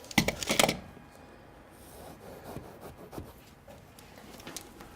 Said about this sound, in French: on le coupe avec un couteau à pain, à dentelé